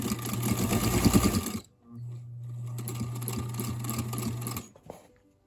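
A sewing machine runs in two bursts of rapid long-stitch sewing on bias tape, a fast mechanical whir with a short pause between runs, close and fairly loud.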